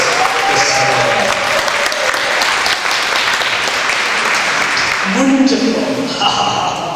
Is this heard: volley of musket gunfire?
no